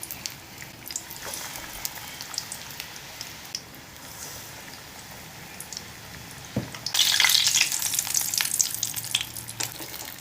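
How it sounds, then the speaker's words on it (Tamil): Potato-stuffed chilli bajji, coated in batter and deep-frying in oil on medium heat, gives a steady crackling sizzle that swells louder and busier as another piece drops in near the end. "மசாலா வச்ச மிளகாயை மாவில் பிரட்டி எண்ணெயில் போட்டு பொரித்து எடுத்துடலாம்"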